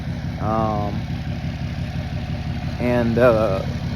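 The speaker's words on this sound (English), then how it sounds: "So we're kind of cold starting it now." A Ram 2500 with a 6.7L diesel engine idles steadily after a cold start on a chilly morning, a low, even clatter close by with a voice speaking briefly over it twice.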